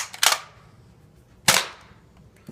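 A NERF Strong Arm revolver-style toy blaster fires single shots, two sharp, loud pops about a second apart with short decays, followed by a fainter click at the end.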